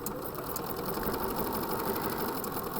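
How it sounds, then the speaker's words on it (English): A sewing machine stitches in one steady, continuous run, close and moderately loud, with no talking over it. "I will sew."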